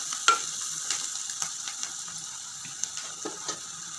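Onions and salt frying in a pan for bitter gourd curry, stirred with a spoon that gives scattered scraping clicks over a steady, hissing sizzle, close and even.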